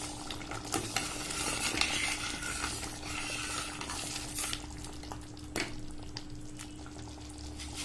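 Paneer simmering in a creamy white gravy with garam masala and chopped coriander is stirred in a pan, giving a soft, continuous bubbling sizzle with scraping strokes of the spoon and an occasional clink.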